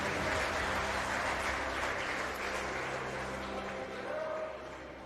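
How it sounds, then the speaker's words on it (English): An audience at the Western Cape Prestige Agri Awards applauds Witzenberg and Oeverberg, a steady wash of clapping from a large crowd that holds level for about five seconds before easing slightly, with faint voices and a low hum underneath. "Please give them a round of applause as they make their way to."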